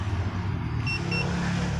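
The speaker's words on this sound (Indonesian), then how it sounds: "Setelah itu mesin nyala tanpa kunci kontak." A Yamaha NMAX scooter with a smart-key alarm system runs with a low, steady engine rumble, and two short, high electronic beeps chirp in quick succession partway through.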